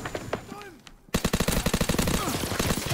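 The Waffe gun in a video game fires a long rapid burst of sharp, evenly spaced shots, loud and close, after a quieter opening with scattered game sounds.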